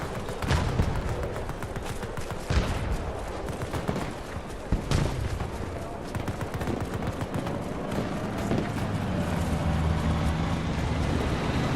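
Machine gun in a video game firing rapidly, a dense, continuous rattle of shots with occasional louder cracks and a busy, noisy backdrop.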